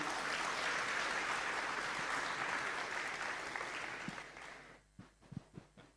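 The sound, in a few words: audience applause for a speaker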